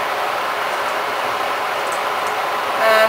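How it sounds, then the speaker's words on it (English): Electric kettle boiling water right beside the recorder, a steady, loud rushing hiss with no breaks. "that's my kettle boiling right beside the camera."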